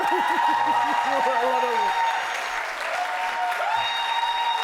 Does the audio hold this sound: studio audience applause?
yes